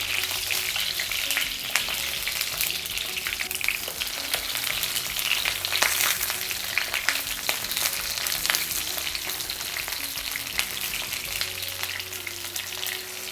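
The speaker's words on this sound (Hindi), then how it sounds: "बैंगन को हल्के हाथों से उलट पलट के इसे खूब अच्छी तरह फ्राई कर लेंगे, ताकि बैंगन टूटे ना।" Brinjal pieces for a peas masala dish sizzle loudly and steadily in a pan while being gently turned over, with soft scraping and clattering from stirring and no speech.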